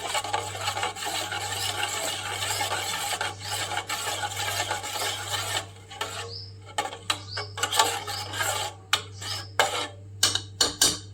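Metal scraping and rubbing against a container while stirring a kharvas (colostrum pudding) mixture, a steady rasp that gives way to scattered clinks and knocks, close by with a low hum underneath.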